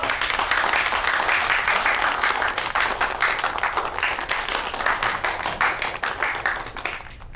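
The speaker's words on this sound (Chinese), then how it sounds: "鼓掌！" Group applause at an office gathering in a publishing house, steady clapping from a room of colleagues lasting the whole stretch without pause, close and fairly loud, with no talking over it.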